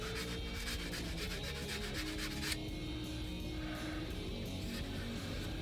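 Steady rubbing scrape of sandpaper smoothing and evening out the edge of a Kydex knife sheath, continuous and close, with a shift in texture partway through.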